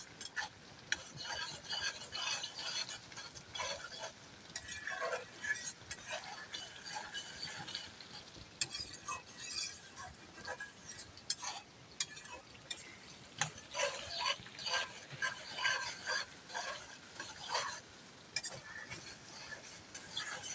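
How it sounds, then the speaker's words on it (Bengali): Spice masala being stir-fried in oil for a pigeon curry, with irregular scraping and clinking of a spatula against the pan and a faint sizzle, close but quiet throughout. "মশলাটা এরকমভাবে কষাবেন যাতে নাকি তেলটা উপরে বেশি যায়"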